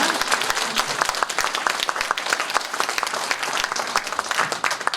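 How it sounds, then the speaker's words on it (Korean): Audience applause at the close of a lecture at an academic commemorative event, dense and steady clapping from a full room that carries on unbroken for the whole stretch with no voices over it. "다시 한번 큰 박수 부탁드립니다."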